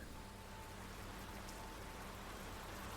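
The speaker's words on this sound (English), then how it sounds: "But you can hear the rain?" Rain falling in the Resident Evil 2 Remake video game: a faint, even hiss of steady rainfall that holds unchanged throughout, with no voices or other distinct sounds.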